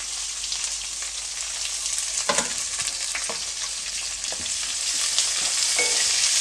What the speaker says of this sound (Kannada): ಇವಾಗ ಈರುಳ್ಳಿನ ಒಂದು ಸ್ವಲ್ಪ ಫ್ರೈ ಮಾಡ್ಕೊಳ್ಳಿ